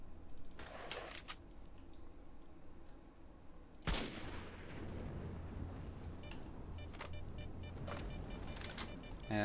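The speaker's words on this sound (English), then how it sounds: "Let's use our sniper rifle." Sniper rifle shots ring out in the video game S.T.A.L.K.E.R.: Shadow of Chernobyl, one sharp loud crack followed by a few fainter distant reports over a low ambient background, with no voices.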